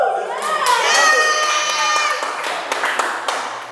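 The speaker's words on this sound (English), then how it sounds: "Why are you guys clapping?" A group of children clapping and cheering together, with excited shouts and high voices rising over the clapping. The burst is loud and close and then tapers off.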